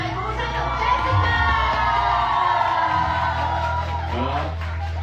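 An audience at a public event featuring Jessica Hsuan and Louis Koo cheers and whoops loudly, a dense crowd roar of shouting and cheering voices that swells and holds throughout.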